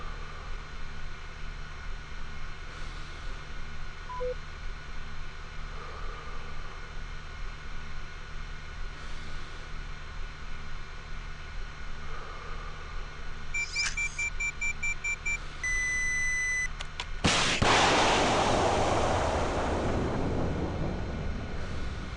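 Javelin missile launcher in a video game training exercise: quiet hum, then a series of steady electronic lock-on tones, followed by a sudden loud whooshing blast of the missile firing that trails off into a rushing roar.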